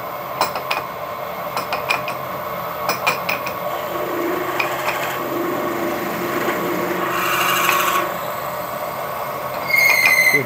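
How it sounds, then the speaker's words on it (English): A milling machine drills an 8mm hole, fed gently by raising the knee with the quill locked, giving a steady grinding, rasping cut with repeated sharp ticks and a brief louder squeal near the end, close and with no talking. "I'm just going to gently use the knee of the milling machine"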